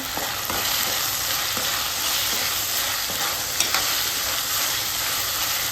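Ginger garlic paste frying in a pan for gongura chicken gives a loud, steady sizzle with faint scraping from stirring, heard up close and without speech.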